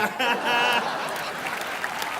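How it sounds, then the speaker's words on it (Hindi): A television studio audience claps to welcome actress Richa Chadha onto a chat show stage, brief moderate applause mixed with a voice and light laughter that quickly fades to a softer murmur. "तो जोरदार तालियों से स्वागत कीजिए"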